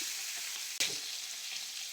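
Turmeric-coated fish pieces sizzle in hot oil with a steady bright hiss, broken by one sharp crackling burst midway as a piece drops in, quiet overall and without talk.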